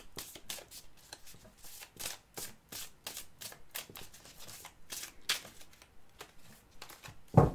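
Tarot cards being shuffled for a card reading, with a quick run of crisp riffling flicks in steady rhythm, close and fairly quiet, with no talking.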